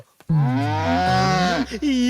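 A bull lets out one long, loud, close moo that wavers in pitch before trailing off, followed by a brief second low call.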